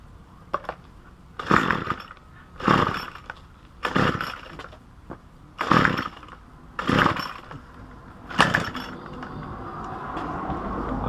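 The engine of a Craftsman string trimmer sounds in a series of about seven short, sharp revving bursts, each lasting around a second, separated by quieter gaps and close by.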